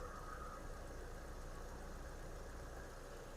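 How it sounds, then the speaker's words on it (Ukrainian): A 2009 Volkswagen Touran with a 1.6 MPI BSE petrol engine idles smoothly and quietly, a steady low hum with no variation, heard close and faint. "Мотор працює тихо, рівно."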